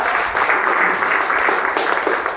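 Loud, sustained applause from an audience at a business plan presentation, a thick, even roar of clapping hands with a brief dip partway through.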